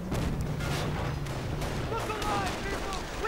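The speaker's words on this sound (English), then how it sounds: "Artillery is ready though to sunder the German lines of the 17th SS." Artillery rumbles through a WWII strategy game battle against German SS lines, a dense, continuous wash of distant booms and gunfire while a voice talks over it.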